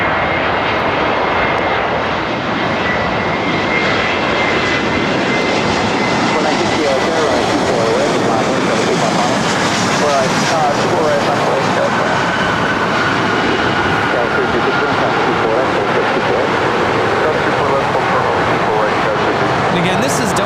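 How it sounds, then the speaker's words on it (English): A Delta Airlines Airbus A321neo arrives at LAX from Orlando, its engines producing a loud, sustained roar that fills the whole stretch, with people talking over it. "Our next arrival, Delta Airlines flight 504, coming in from Orlando, Florida, on an A321 Neo."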